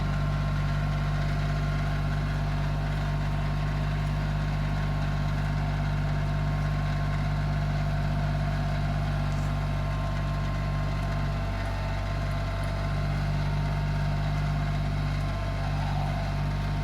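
Tractor working and heaping soil around the base of casuarina trees on a farm, its engine a steady loud drone throughout with a continuous low rumble and no talking.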